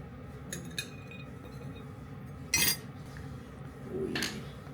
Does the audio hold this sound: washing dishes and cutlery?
yes